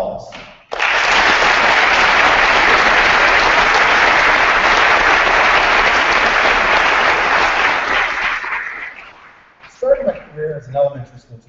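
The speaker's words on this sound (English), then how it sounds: "round of applause" A large high school awards audience bursts into loud, dense applause for the teachers, sustained for about eight seconds before tapering off, followed by a speaker's voice.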